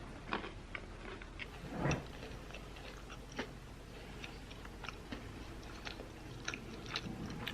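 Someone chews a crispy chocolate chip nut cookie up close, with a series of sharp crunchy bites and softer mastication sounds repeating irregularly, no talking over it.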